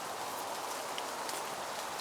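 Rain patters softly and steadily over a stealth campsite in the woods, a faint even hiss with scattered drops and no talking.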